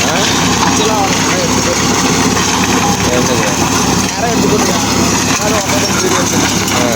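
Swaraj 963FE tractor running a mulcher on stick-covered land, a loud, continuous engine roar with grinding and clattering from the cutter, heard up close with a voice talking over it.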